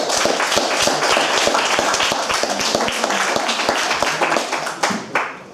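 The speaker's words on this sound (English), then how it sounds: "Round of applause everyone." A hustings audience claps for a student candidate coming up to speak, with dense, energetic applause from many hands that fades near the end.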